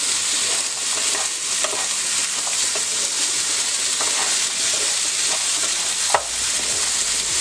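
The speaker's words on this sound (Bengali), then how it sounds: "ছোলাটাকে নেড়ে দিচ্ছি" Chickpeas for a Ramadan iftar dish are stirred while frying in a pan, loud steady sizzling with soft repeated spatula scrapes and one sharper knock, close up and alone.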